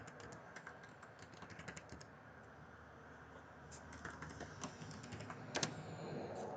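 A computer keyboard is typed on in quick bursts of light clicks while building a cash memo layout in CorelDRAW X8. The typing is soft and close, with short pauses between runs.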